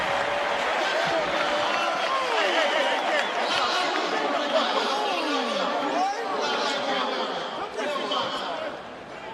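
Arena crowd at the 1995 slam dunk contest roaring after a dunk, a loud continuous wash of cheering and excited chatter with whistles, easing slightly toward the end.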